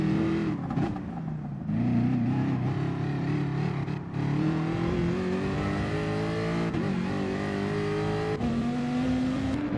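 A race car in a racing game at the Red Bull Ring revs hard on a practice lap, engine pitch rising and dropping through gear changes, loud and close and running throughout with no talk.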